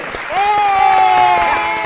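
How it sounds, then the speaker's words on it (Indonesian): A studio audience at a quiz show claps in quick, scattered strokes, with a loud sustained vocal tone riding over the applause for most of its short length. "tepuk tangan untuk ini"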